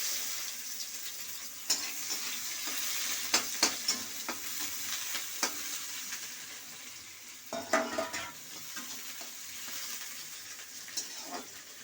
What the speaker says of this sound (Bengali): এই পেঁয়াজটা দিয়ে দিলাম।